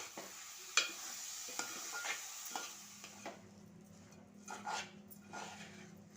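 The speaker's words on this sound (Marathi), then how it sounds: "हा यामध्ये टाकायचा आहे आणि चांगला मिक्स करून घ्यायचा आहे" Washed rice is stirred into a pot for Konkani-style dried shrimp rice, giving soft, intermittent scraping and mixing strokes at close range with no talk.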